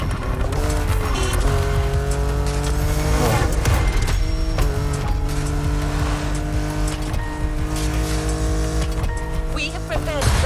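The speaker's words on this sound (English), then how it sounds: "We have prepared a classic for you from a very famous German brand, the BMW Z4 M40i" A BMW Z4 M40i convertible drives in The Crew Motorfest, its engine revving and shifting through gears with tire squeal, loud and continuous, while a voice talks over it.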